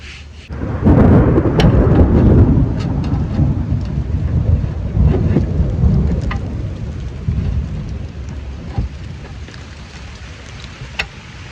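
A nearby thunderstorm brings a loud, booming thunder rumble that slowly fades over steady rain pattering on surfaces, with occasional sharp drips close by.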